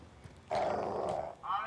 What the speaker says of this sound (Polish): Słyszałem pieska.